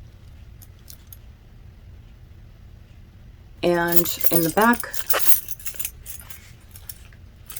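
Keys on a Louis Vuitton 6 ring key holder jangle and clink in a short burst close by, several metallic chinks after a quiet stretch, with a person talking nearby at the start.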